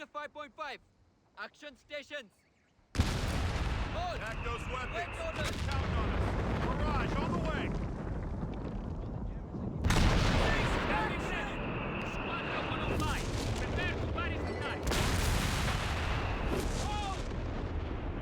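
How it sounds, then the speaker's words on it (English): Howitzers in the Company of Heroes 3 strategy game fire their shells, opening on a quiet stretch, then erupting into heavy, continuous booming artillery with repeated louder blasts layered over a rumbling battlefield din. "these 3 howitzers had really long aim times, causing a big delay before their first shell was fired"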